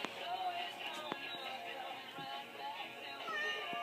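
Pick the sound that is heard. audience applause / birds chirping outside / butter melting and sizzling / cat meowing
cat meowing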